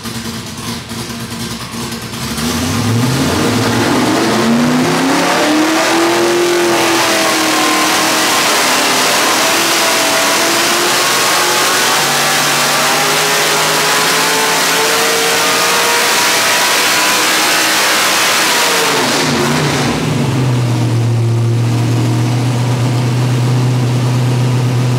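A 363 cubic inch small block Ford V8 on a dyno revs up to 7,600 RPM: loud, close engine roar climbing steadily in pitch for about seventeen seconds, then dropping sharply and settling back to a lower idle-like drone.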